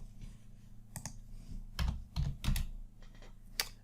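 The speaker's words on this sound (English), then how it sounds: "We'll enter a password." Password typed on a computer keyboard during a Cisco Nexus 9k virtual switch setup: several bursts of clicky keystrokes, close and fairly quiet, with short pauses between clusters.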